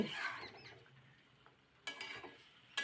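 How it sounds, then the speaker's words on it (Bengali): Country chicken is stirred with spices in a pan over medium heat, producing soft scraping and a faint sizzle. Two short bursts of louder stirring scrape near the end. "মাংসের সাথে মশলাগুলো সুন্দর করে মিশাতে হবে।"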